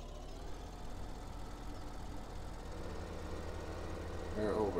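A tractor engine idles in a farming video game, a steady low drone that holds at an even level throughout, rising slightly at the end.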